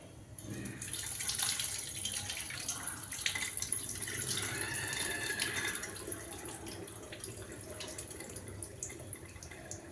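A tap runs into a vessel of soaked rice as it is rinsed, a steady splashing flow with light drips and sloshing throughout, fairly quiet and without speech.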